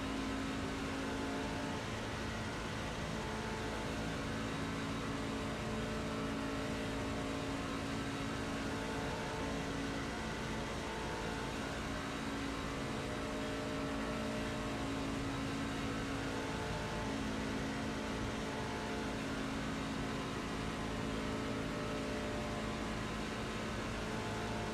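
Race trucks lap Daytona in the iRacing simulator. A dense, steady engine drone holds at high revs without a break, and other trucks blend into a continuous roar under a faint background hiss.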